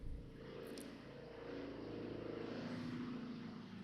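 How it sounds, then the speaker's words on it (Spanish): Helicopter passing overhead, a steady low droning engine and rotor rumble that holds at moderate distance throughout, slightly swelling toward the end, with no talk. "Pasa un helicóptero."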